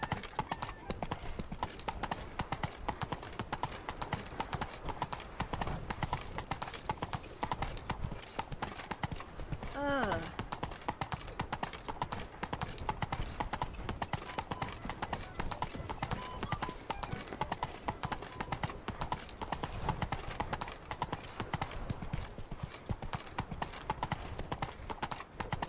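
The horse Roach from The Witcher 3: Blood and Wine trots along with steady, rhythmic hoof clip-clops under a faint ongoing voice.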